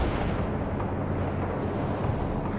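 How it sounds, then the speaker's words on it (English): Gunfire and explosions rumble in the World in Conflict war game, a dense, continuous low roar of battle with overlapping blasts and shots, steady and loud throughout. "They're firing at us!"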